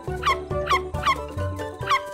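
A dog yips and barks in quick repeated bursts, about five sharp, high-pitched calls at an even, eager pace, close and clear with no talking over them.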